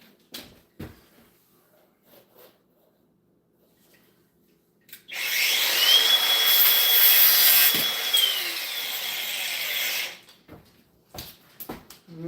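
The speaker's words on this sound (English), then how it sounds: "And we'll just get the grinder for that." A power grinder runs steadily for about five seconds, loud and harsh, then shuts off. Faint clicks and knocks come before and after it.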